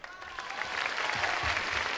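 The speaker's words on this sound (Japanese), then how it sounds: "両者に大きな拍手を" Audience applause at a rap battle event after the judges announce the winner, a broad clapping wash swelling from moderate to full and sustained, with faint cheering underneath.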